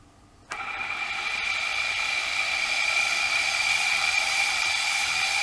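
A small electric motor with a coil on a pulley platform and an independently spinning rotor starts abruptly, then settles into a steady, loud whirring hum with a bright tonal whine that holds without change.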